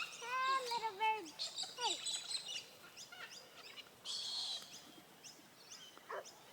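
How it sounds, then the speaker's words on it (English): A bird gives a harsh, wavering call in a park near a house, repeated in short rising and falling bursts alongside chirps, with people talking nearby. "That's the most evil sounding bird call."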